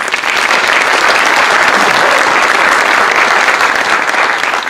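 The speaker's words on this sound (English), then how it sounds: "I think they need a round of applause for organizing this" Dense, loud applause from an audience at a senior academic awards ceremony, honoring the event organizers, a steady wash of clapping that holds at full strength throughout without any talk.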